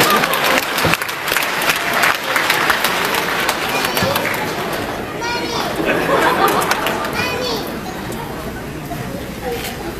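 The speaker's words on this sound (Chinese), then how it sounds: "那么大家掌声欢迎" Applause from a university audience rises amid crowd chatter, a thick, continuous clatter of clapping mixed with murmuring voices, loud at first and easing slightly toward the end.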